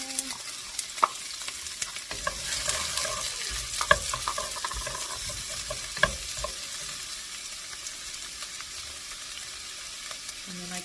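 A whole chopped onion fries in heated olive oil in a pot, a soft steady sizzle with scattered clinks and scrapes of stirring, close by and fairly quiet, with no talking.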